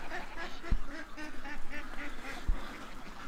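Ducks quacking close by in a yard as they are herded out, a busy overlapping chorus of nasal calls with a couple of sharp bumps, steady and fairly loud throughout.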